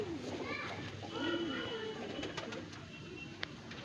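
Pigeons coo softly at a summer flying tournament in Bareilly, Uttar Pradesh, with low murmuring calls repeating through the clip beneath nearby voices and children's chatter.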